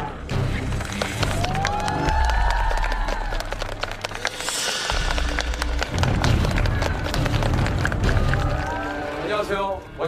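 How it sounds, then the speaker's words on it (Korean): Audience applause and cheering welcome the first team onto the stage at a non-singer music performance, a dense crowd roar with whoops and shouts that swells mid-way and carries on under talk. "첫 번째 팀을 박수로 맞아주세요."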